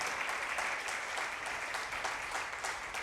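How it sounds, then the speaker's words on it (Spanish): Sustained applause from a church congregation during a sermon, a continuous wash of many hands clapping at an even level throughout, with no break. "Si es para el Señor, dale un fuerte aplauso al Señor."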